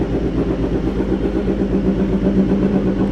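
BMW HP4 motorcycle with an SC Project exhaust running nearby, a loud steady throbbing engine note with a rough pulsing rhythm throughout.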